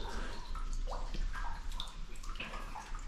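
Someone wades slowly through shallow water over deep mud in a cave tunnel, with steady sloshing, gurgling and small splashes echoing close by.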